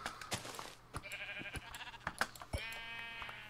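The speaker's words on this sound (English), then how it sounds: "Oh, another sheep up here." Sheep in the Minecraft video game bleating several times in short wavering calls, clear and close over a quiet game background.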